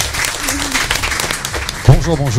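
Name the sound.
audience applauding the referee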